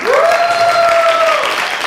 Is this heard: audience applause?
yes